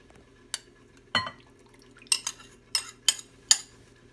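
Buttermilk-marinated chicken being moved into a bowl, heard as about half a dozen sharp clinks and taps of utensils against dishware, spaced irregularly over near silence.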